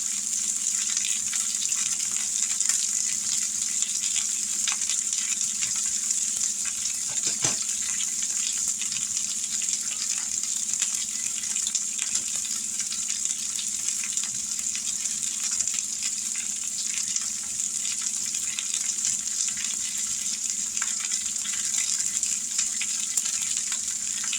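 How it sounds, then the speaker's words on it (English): A pot roast sears in a hot frying pan, giving a steady, bright crackling sizzle that stays loud and close for the whole stretch, with only a faint clunk of handling partway through. "It may not be bacon, but listen to that sizzle."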